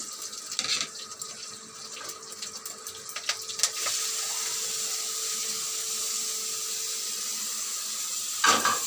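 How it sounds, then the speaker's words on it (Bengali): Greens are tossed into hot oil with cumin seeds and chillies: a few clattering knocks, then a sudden steady hiss of frying that holds evenly, with a late clatter near the end. "দুটো জিরে ফোড়ন দিয়ে আমি শাকটা ভেজে নেব"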